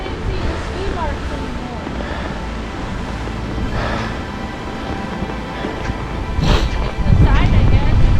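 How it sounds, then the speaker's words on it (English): Strong wind buffets the microphone in a cold mountain forest in White Mountain National Forest, a constant roaring rush that swells louder in gusts toward the end. A voice speaks briefly under it. "that wind is crazy."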